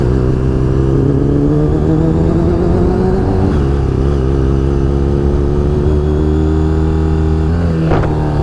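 A poorly running 2002 Kawasaki Ninja 636 motorcycle engine revs up and down close by, its pitch rising and falling over a rough idle, ending with a short sharp knock as it stalls.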